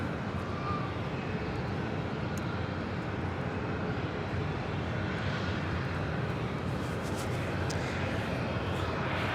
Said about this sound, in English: This is United 2096 departing to Newark on a 777-200.